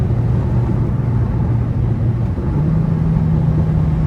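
A Kia Forte GT's engine drones loud and close from inside the car while the driver works the paddle shifters, its pitch steady and then stepping up partway through as the gear changes, with no voices over it.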